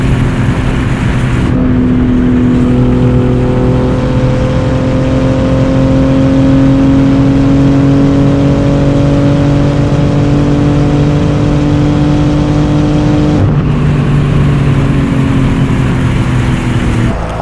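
A Porsche GT2 RS with over 1000 hp and an upgraded intake accelerates hard on the autobahn, a loud sustained engine drone rising steadily in pitch through long pulls, broken by two quick gear changes, heard from inside with no talk.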